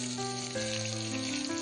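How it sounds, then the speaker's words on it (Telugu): Chopped onions and green chilies sizzle and fry steadily in hot oil for a green mango curry, a continuous close crackle with no talking. "రెడ్ కలర్లో వచ్చేదాకా ఫ్రై చేసుకోవాలి"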